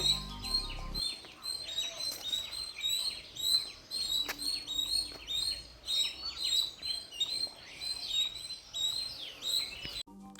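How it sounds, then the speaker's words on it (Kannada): Many birds call and chirp together at Ranganathittu bird sanctuary, a dense, continuous chorus of high tweets and calls throughout, with no talking. "ಪಕ್ಷಿ ಸೌಂಡ್ ಮಾಡ್ತಿರೋದನ್ನ ರೆಕಾರ್ಡ್ ಮಾಡಿದ್ದೀನಿ ಕೇಳಿಸ್ಕೊಳ್ಳಿ"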